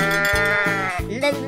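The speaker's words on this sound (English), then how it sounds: "Sheep." A cartoonish sheep from an animal painting game gives a long, loud, wavering bleat with a stepped, quavering rhythm, heard alone and close up.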